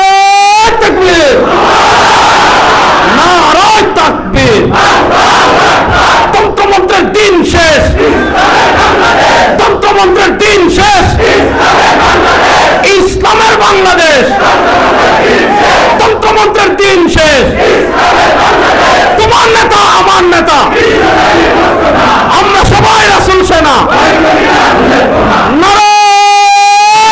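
A large crowd at an Islamic religious gathering in Bangladesh shouts takbir back to the call in loud, repeated massed chants that swell and fall with almost no pause.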